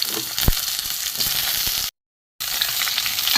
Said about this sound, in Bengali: আলুগুলো একটু ভেজে ভেজে নেবো ভালো করে লাল করে ভেজে নেবো আলু